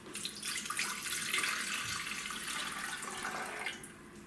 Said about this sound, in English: we need to put in the warm water